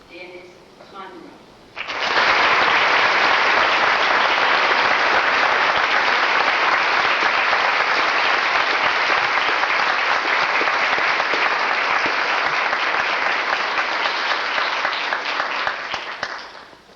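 Sustained loud applause from a high school honors night audience fills the room after a short spoken introduction, clapping dense and even for about fifteen seconds before tapering slightly.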